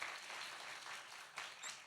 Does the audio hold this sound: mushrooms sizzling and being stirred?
no